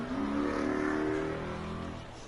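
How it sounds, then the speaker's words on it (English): Loud cars revving along Highway 90 just beyond a minor-league baseball park in San Antonio, one engine climbing in pitch and holding steady, close and strong, with no talk. "you can actually hear people go crazy over those loud cars"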